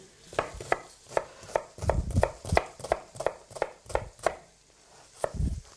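A knife chops onion rapidly on a cutting board in a steady rhythm of about a dozen crisp, close strikes.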